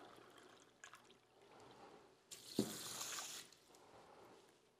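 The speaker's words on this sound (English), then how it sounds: "So let's go ahead and add our water." Water is poured from a cup onto washed rice for cooking in a rice cooker: one short, quiet splashing pour lasting about a second in an otherwise still room.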